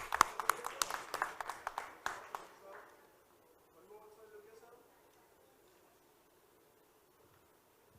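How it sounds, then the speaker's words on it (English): A small audience at an accountants' annual conference technical session gives a short burst of scattered applause that thins out after about two seconds and fades into near silence. "Give a big round of applause for sir."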